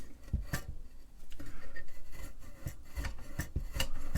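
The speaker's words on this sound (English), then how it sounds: "felt pads in here that rub up against each other" Felt pads rub against each other inside a Shugart 801R floppy drive from an Altair 8800 setup, giving a close, dry rasping scrape in repeated strokes with soft thumps, no talk.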